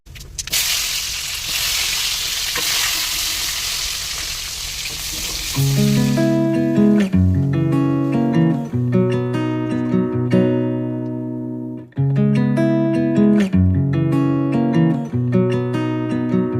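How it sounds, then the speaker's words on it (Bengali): Mustard seeds crackle and sizzle in hot oil while tempering a tomato dal, a dense frying hiss for several seconds before music takes over. "এখন এই ফোড়ন দেব, সর্ষে ফোড়ন দেব"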